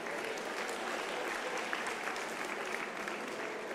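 Steady, distant crowd applause fills a hall at an academic year opening ceremony, an even wash of many hands clapping throughout with no voices on top.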